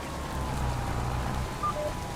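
Steady, soft rain patters continuously in a Farming Simulator 25 farm setting, a faint, even hiss with no other sounds.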